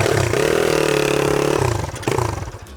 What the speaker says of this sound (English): as soon as you let go of the throttle, it just bogs down and that's it.